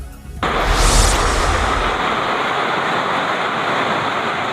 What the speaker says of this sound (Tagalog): Umaapaw ang tubig sa ilog sa Evangelista Bridge sa Biñan, Laguna.